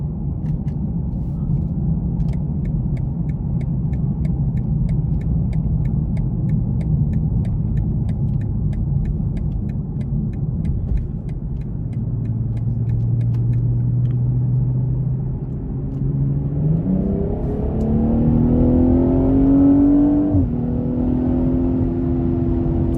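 A 2020 BMW 840i xDrive M Sport Gran Coupe engine rumbles steadily inside the cabin, then revs climb in a rising whine as the car accelerates hard, with no talking.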